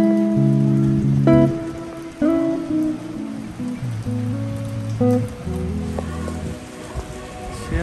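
Rain falls steadily on a street in Croatia where pigeons have gathered, a continuous close wash of drops with some tonal sounds layered over it.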